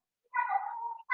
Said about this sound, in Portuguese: Tem uns gatinhos ali.